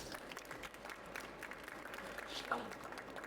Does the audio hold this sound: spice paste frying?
no